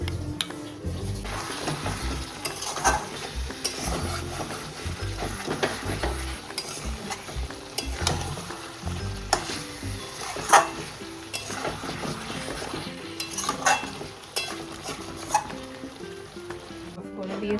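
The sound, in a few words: meat being stirred and fried (kosha) for biryani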